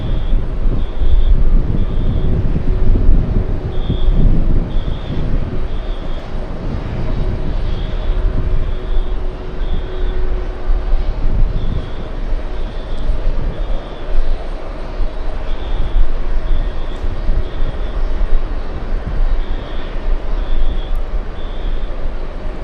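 Large airliner passing overhead, a loud rumbling jet roar that swells early and then rolls on with buffeting wind noise on the microphone, with a steady high tone pulsing faintly in the background.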